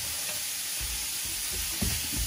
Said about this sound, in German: Das werden wir jetzt schön braun anbraten.